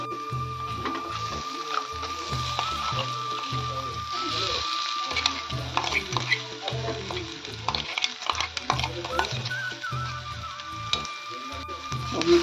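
Onion, turmeric, red chili powder and green pea paste fry in a pan for green pea vadas, with steady sizzling and repeated rhythmic scraping of a spoon stirring the thick mixture throughout, fairly close and moderately loud.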